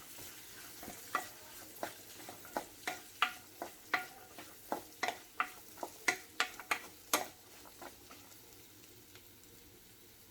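Cluster beans frying in a pan with turmeric, stirred in a steady run of about a dozen soft scraping strokes over a faint, quiet sizzle, with no talk.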